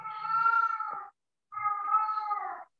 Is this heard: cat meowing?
yes